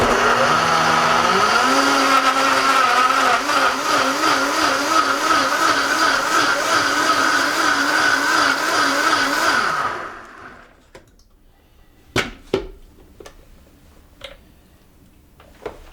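Blender whirring through kale, strawberry, avocado, banana, pear and water for a smoothie, loud motor climbing in pitch as the speed is raised, churning steadily, then cutting off into quiet clinks.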